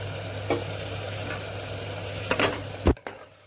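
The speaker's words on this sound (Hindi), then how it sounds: "2 मीडियम साइज़ के टमाटर भी मैंने पीस के रखे थे, वो डाल रहे हैं इसमें, और साथ ही डाल देंगे हरी मिर्च।" Ground tomato and green chilli go into onions frying in a pan, giving a steady sizzle with a few scraping stirs and clanks of a spoon, close and moderately loud, ending in a sharper knock.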